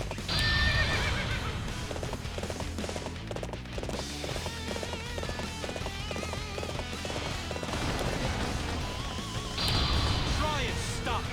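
A horse gallops and neighs in Dynasty Warriors 7, rapid rhythmic hoofbeats under loud whinnies at the start and end, with game music and voices mixed in.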